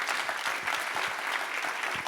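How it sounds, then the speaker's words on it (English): An audience claps steadily and loudly throughout, a dense even patter of applause with no voices. "I just want to give her one more round of applause."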